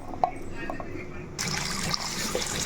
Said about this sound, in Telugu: ఇప్పుడు చక్కగా మనం ఈ బియ్యాన్ని కడిగేసుకుందాం